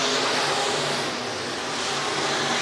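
IMCA dirt track race cars roar through a heat race at Marshalltown Speedway, a dense, continuous wash of engine noise from several cars, steady and fairly distant with no clear individual passes.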